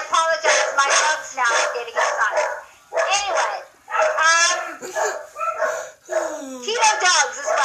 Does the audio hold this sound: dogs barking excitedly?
yes